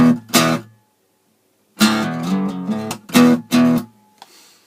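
A guitar plays a sped-up riff in short, loud bursts of strummed notes with brief gaps between them.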